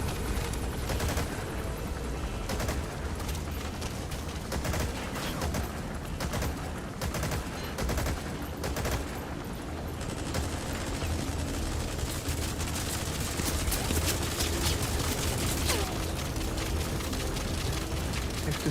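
Dense continuous barrage of video game weapon fire, missiles launching and exploding in rapid crackling bursts over a sustained roar for the whole stretch.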